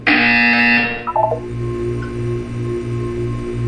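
A loud electronic buzzer tone from the video game Portal 2 sounds for about a second, then a low pulsing hum carries on alone.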